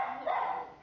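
A dog at an animal shelter gives a single short, faint bark or yip, heard at a moderate distance and with no speech over it.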